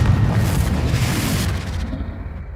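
Confringo fire spell from Hogwarts Legacy bursts in a loud, deep booming explosion that rumbles for about two seconds, then trails off into a thinner fading crackle.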